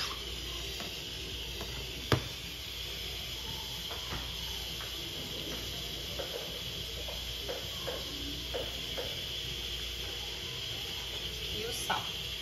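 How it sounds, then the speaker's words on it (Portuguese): Seasoning with scallions, parsley and salt frying in a pan gives a steady, close sizzling hiss with small pops and crackles throughout. "Deixa eu fritar mais um pouco."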